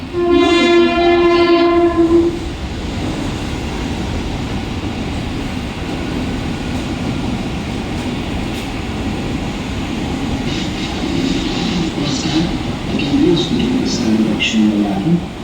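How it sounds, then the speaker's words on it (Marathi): A Mumbai local train horn blares for a couple of seconds at a station platform, then a heavy, continuous rumble of rail cars rolls past nearby with rattling and a faint squeal. "प्लॅटफॉर्म क्रमांक 1 पर आई हुई लोकल 1:34 की कल्याण जाने वाली धीमी लोकल है"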